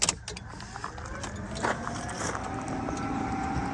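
An abandoned Mazda Miata's starter cranks steadily without the engine catching, a continuous whirring grind heard close up inside the car with no speech over it.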